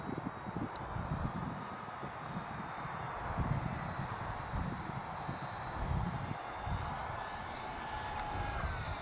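A radio-controlled Super Cub model plane comes in to land on a windy day, its small engine buzzing faintly and steadily at a distance under gusty wind noise.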